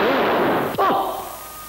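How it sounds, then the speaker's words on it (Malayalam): A blasting explosion set off by an engineer booms out abruptly near the midpoint, its sharp burst followed by rumbling debris over a dense, noisy background. "ഇഞ്ചിനീയർ വെടി തുടങ്ങി."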